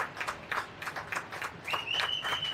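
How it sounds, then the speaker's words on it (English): Spectators at a 14U girls' hockey game clapping for an injured player as she gets up, a rhythmic patter of hand claps at moderate distance, with a brief whistle-like tone sounding near the end. "Everybody takes a clap."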